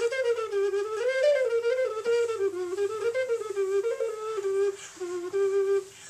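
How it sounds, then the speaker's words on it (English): A gemshorn, a wind instrument made from the horn of an animal like a goat or antelope, plays a gentle, breathy, flute-like melody on its own, its soft notes sliding and wavering in a quiet, close solo line. "This is called the Gems horn."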